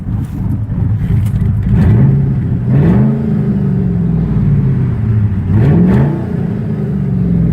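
A Massey Ferguson GC 1710 sub-compact tractor's engine runs loud and close, rumbling steadily with a few short rev swells that rise and fall.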